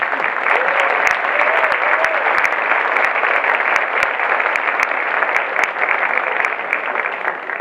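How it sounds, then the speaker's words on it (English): An audience at an MLK breakfast applauds a group of young chorus singers, sustained dense clapping with sharp individual claps popping out, loud and continuous for several seconds, with faint voices underneath. "please give these youngsters your applause"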